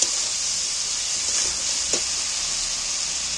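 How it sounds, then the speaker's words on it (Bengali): Fried potatoes tossed back into hot oil and sautéed with spices give a steady, bright sizzle that runs throughout. A few soft stirring scrapes sound beneath it. "ভেজে যে তেলে ভেজে যে আলুগুলো রেখেছিল সেই আলুগুলো এর মধ্যে তুলে দিচ্ছি এবার আলুগুলোকে একটু কষিয়ে নেব মশলা দিয়ে"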